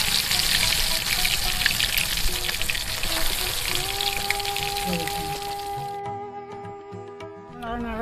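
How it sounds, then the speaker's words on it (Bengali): Lentil paturi frying in hot oil gives a steady, loud sizzle for about six seconds, then settles into a quieter bubbling hiss with a few faint tonal sounds alongside. "দ্বিতীয়বার আবার তেলতে দিয়ে দিন ভাজার জন্য"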